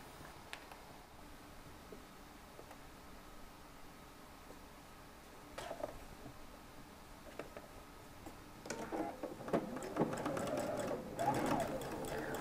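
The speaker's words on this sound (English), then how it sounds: "On your machine, sew just on the edge of your folded fabric." A sewing machine stitches along a folded fabric edge, faint at first with sparse ticks, then running in a quick rattling burst toward the end.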